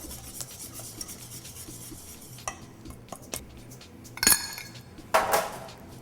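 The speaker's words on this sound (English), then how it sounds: "Careful not to whisk too fast like I just did, and flour flies up in your face" A whisk works flour into batter in a bowl, producing soft scraping strokes with a few sharp metallic clinks and rattles against the bowl, close up and with no talking.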